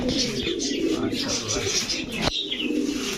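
Racing pigeons coo softly and continuously nearby amid fluttering and a busy background at a pigeon market, with a brief sharp knock partway through.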